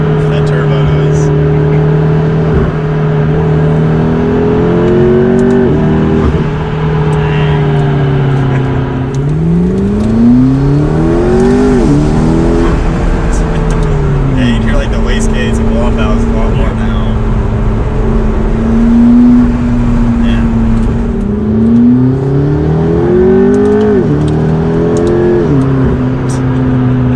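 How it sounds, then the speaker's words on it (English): A loud Toyota Supra heard from inside gives a deep engine drone that repeatedly surges and falls as it accelerates and shifts, with turbo whine and wastegate hiss over the top and people talking throughout. "You hear like that wastegate, like turbo noises and everything back there."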